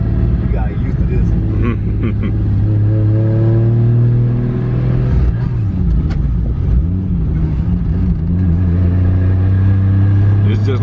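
A 700+ hp JZ-swapped Lexus SC400 is driven through the gears with a manual clutch. The loud, close engine rises in pitch, drops at each shift and climbs again, while voices talk over the deep rumble.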